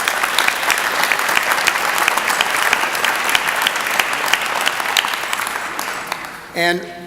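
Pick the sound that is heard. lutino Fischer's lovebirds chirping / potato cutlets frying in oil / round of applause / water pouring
round of applause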